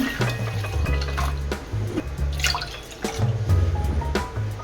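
Water poured onto rice in a pot for boiling, with close splashing and dribbling mixed with light clinks of a pot or cup, continuing steadily throughout.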